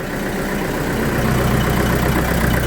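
A tractor engine idles steadily after a fuel system repair, a loud, continuous low rumble with an even knocking throb and no voices.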